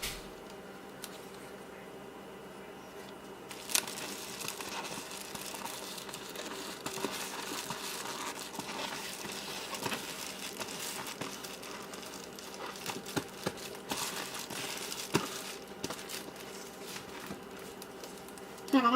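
Insulated window cover material for a Mercedes Sprinter 4x4 van, glued down with Stanley glue sticks and a glue gun, crinkles and rustles steadily as it is folded over, with scattered soft taps and crackles throughout.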